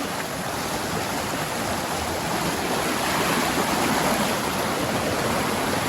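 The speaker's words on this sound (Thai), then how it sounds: "รู้ว่าน้ำไหลแรงมาก" Fast-flowing stream water rushes steadily and loudly, a dense continuous roar with no voices.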